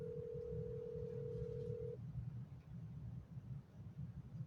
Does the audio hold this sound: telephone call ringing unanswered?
yes